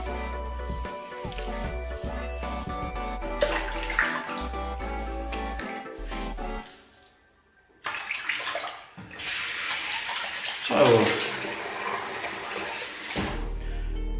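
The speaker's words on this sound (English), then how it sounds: "I'll just turn the water off there." Water running from a tap into a basin before a wet shave with a puck soap, a steady rushing splash that briefly cuts out and then resumes more strongly, close by and with no talking.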